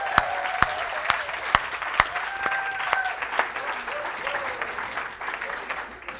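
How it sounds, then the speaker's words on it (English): Sustained audience applause from a crowd at a marketing event, dense clapping with a few sharper claps standing out near the start, steady and fairly close for about six seconds before thinning slightly at the end. "Let's give him a round of applause, Cody Birch."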